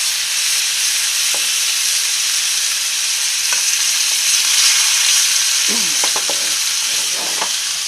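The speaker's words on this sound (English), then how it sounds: "we're going to get them seared up on all 4 sides" Short ribs sizzle loudly and steadily as they sear on a hot grill, a constant crackling hiss with occasional light scrapes and taps.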